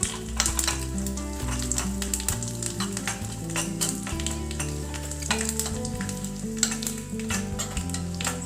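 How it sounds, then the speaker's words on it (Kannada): Curry leaves and asafoetida sizzling in a sambar tempering, a busy crackling fry with frequent sharp pops and stirring, close and steady throughout, no one speaking. "ಕರಿಬೇವು ಹಾಗೂ ಹಿಂಗು ಎಲ್ಲವನ್ನು ಹಾಕ್ಕೊಂಡು ಮಿಶ್ರ ಮಾಡೋದು"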